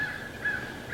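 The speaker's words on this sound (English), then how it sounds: "You can hear a few crows in the background." Faint, repeated caws of crows drift in from far off, low against a steady outdoor background hiss on a quiet mountain morning.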